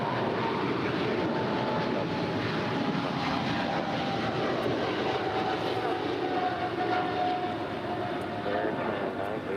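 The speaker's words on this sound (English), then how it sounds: "That's Air China Flight 988 departing to Tianjin. It's a 3-year-old 777-300 ER." A three-year-old Air China Boeing 777-300ER departs LAX, its engines a sustained, moderately distant rumble with a faint rising whine, while people talk nearby.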